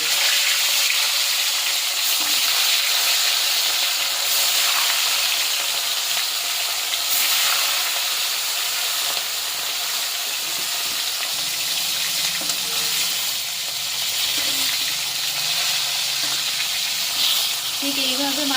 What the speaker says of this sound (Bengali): এইবার গরম তেলে মাছগুলো ভেজে নেব হালকা করে।